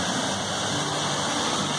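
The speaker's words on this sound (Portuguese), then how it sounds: "Olha só a cachoeira." A small forest waterfall among palm trees gives a steady, even rush of falling water, continuous and fairly close, with no voices.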